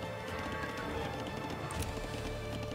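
Scout cavalry horse in Age of Empires 2 trotting with quick, continuous clip-clopping hooves, low and steady under dense game ambience and faint background sounds.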